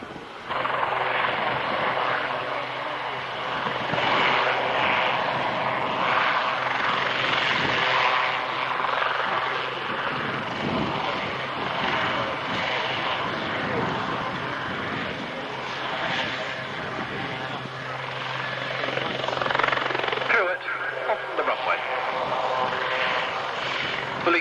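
A helicopter at an airshow in blustery wind flies steadily and loudly throughout, its engine and rotor roar forming a continuous dense drone that swells slightly toward the end, with no voices over it.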